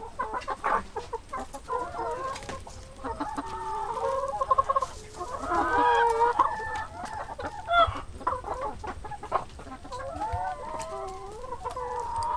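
About a hundred laying hens cluck and chatter inside a henhouse enclosure, with overlapping busy clucks, some louder squawks and a continuous farmyard murmur, close and lively throughout.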